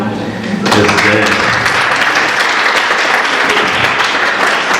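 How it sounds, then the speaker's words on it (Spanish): Loud, steady applause from a crowd at a university neighborhood 30th anniversary gathering. It starts after a moment of voices and keeps going, dense and sustained. "un aplauso a Rito."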